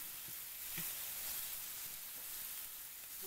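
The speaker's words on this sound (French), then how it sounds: "On va saisir de chaque côté 3-4 minutes." Kidney skewers (brochettes de rognons) sear in a hot pan with a steady, close sizzle and soft crackle that holds at an even level throughout, with no voices.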